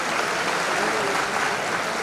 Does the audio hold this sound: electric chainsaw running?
no